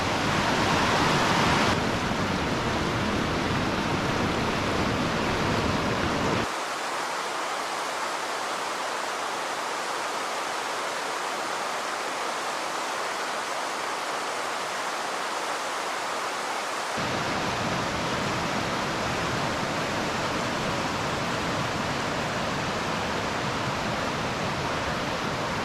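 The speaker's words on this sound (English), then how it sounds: "And the river is flowing." A river running beside the Appalachian Trail on a sunny day, a steady broadband rush of flowing water that holds constant throughout, with no talking.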